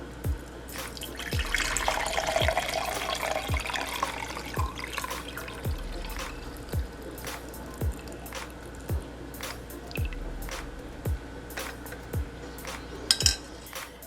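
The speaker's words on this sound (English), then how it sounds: "Our drink is ready, and I'm just going to pour this into my cup." Weight loss tea poured from a container into a cup, a close, steady liquid trickle with small drips and splashes, alone without talk.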